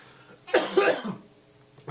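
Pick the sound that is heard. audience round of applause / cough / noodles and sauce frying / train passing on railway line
cough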